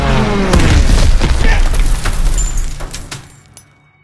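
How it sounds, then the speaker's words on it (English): Stuka dive bombers attack in Call of Duty WWII, with a loud booming blast and heavy rumble that roars for a few seconds and then fades out, with debris clatter along the way. "Stukas, inbound."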